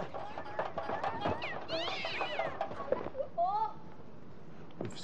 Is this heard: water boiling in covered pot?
no